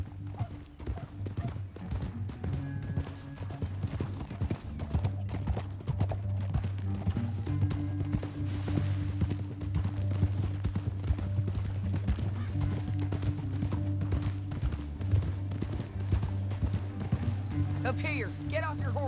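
Horses' hooves pound in a rapid galloping rhythm, with a low rumble underneath and occasional talk over the top in Red Dead Redemption 2.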